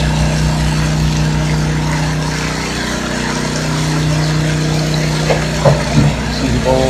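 A gold-mining vibrator machine runs at a mine start-up, droning as a steady, loud mechanical hum with a constant low tone and a few brief knocks near the end.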